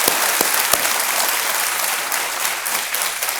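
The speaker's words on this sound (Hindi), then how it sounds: "एक बार फिर तालियों के साथ इनका स्वागत" A studio audience on the Kaun Banega Crorepati quiz show applauds to welcome a contestant. The clapping is steady and full, with a few sharp individual claps standing out near the start and no talking over it.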